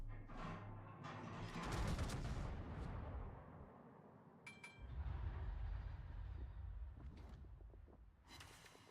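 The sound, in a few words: shells ricocheting off ships in World of Warships video game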